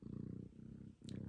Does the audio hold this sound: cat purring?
yes